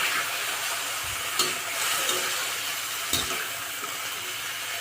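Tender cabbage frying in a hot pan over village-style cooking, a steady close sizzle with a couple of sharper clinks and stirring bumps, no talk over it.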